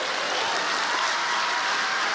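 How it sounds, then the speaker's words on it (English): A comedy show audience applauds in a steady, dense wash of clapping that holds evenly without a break. "Give yourselves a round of applause"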